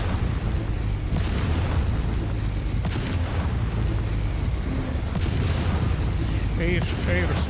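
Explosions in MechWarrior 5 as a base is destroyed: dense, continuous rumbling booms and blasts layered over game noise, loud throughout, with some voice mixed in.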